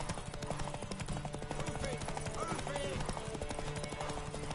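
Horse hooves clip-clop at a steady trot in The Witcher 3, a repeating patter under a dense game soundscape with ambient noise and character voices.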